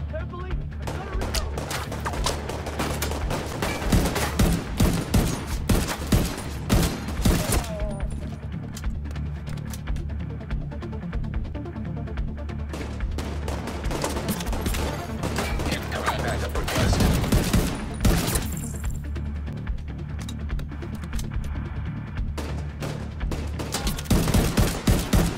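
Low-accuracy, low-stability guns fire in The Division 2 during the Washington Hotel story mission: dense, near, loud bursts of rapid shots and sustained volleys continue through the whole stretch, with brief lulls between salvos.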